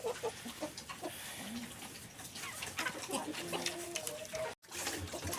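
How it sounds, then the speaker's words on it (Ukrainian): Pigs grunt and chomp on their feed at close range on a farm in freezing winter, while chickens cluck and other farmyard noises carry on around them. "Свинки їдять."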